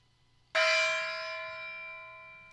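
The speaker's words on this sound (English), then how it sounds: "Did you hear my gong?" A gong rings out once with a sharp attack, then a long, bright, shimmering decay with sustained tones that fades slowly over about two seconds, loud and close in a quiet room.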